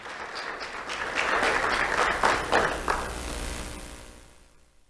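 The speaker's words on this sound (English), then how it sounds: "Let's have a round of applause for Marissa Guzman Jimenez." An audience at a school awards ceremony for the Do The Right Thing Awards claps in a sustained round of applause that swells, holds for a few seconds, then gradually fades away.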